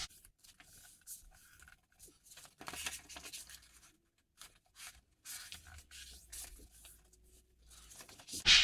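Paper rustles and crinkles in short bursts as it is folded and creased, close to the microphone, with a sharper crackle at the very end.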